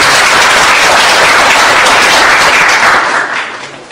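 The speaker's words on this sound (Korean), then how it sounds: "큰 박수 부탁드립니다." At the founding convention of the Justice Party's Gangwon chapter, a hall full of people claps loudly and continuously, the applause swelling briefly and then tapering off over the final second.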